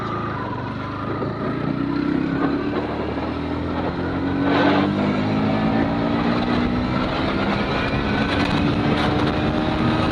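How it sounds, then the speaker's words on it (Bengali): Motorcycles racing side by side on a public road, a loud continuous engine drone with rising and falling pitch as the bikes speed along, with steady wind noise and no talk. "এখন পাল্লাপাল্লি হচ্ছে বাইকে।"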